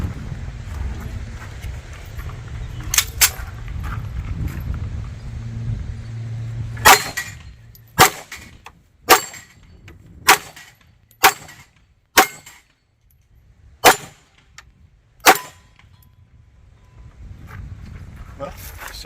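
A Devil Dog Arms 1911 pistol fires about nine sharp, loud shots at an uneven, steady pace, with quiet gaps between them and a brief, muffled stretch of noise before the string begins.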